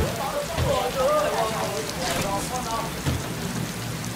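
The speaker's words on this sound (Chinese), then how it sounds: "咁大雨都走唔到噶啦" Heavy rain pours steadily as a typhoon approaches Hong Kong, a dense, continuous hiss with voices talking over it.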